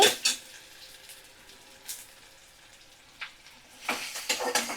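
Chopped onion and green chillies fry in a pan over medium flame, a quiet soft sizzle with a few brief clatters and stirring bursts, growing busier toward the end.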